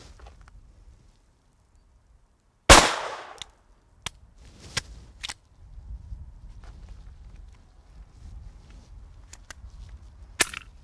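Sharp .22 Long Rifle rimfire shots crack out from a Glock 23 setup, one loud report followed by several lighter, irregular pops and clicks over a low outdoor background.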